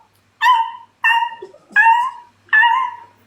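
A dog gives four drawn-out, whining yelps in an even rhythm, each loud and close, with brief quiet gaps and faint murmuring between them.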